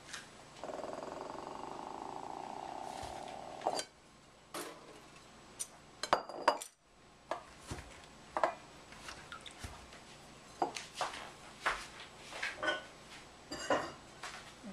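A cooking pot for glacé orange slices is handled in a kitchen, with scattered clanks and knocks of metal and utensils, a steady running sound early on, then irregular sharp clatters throughout.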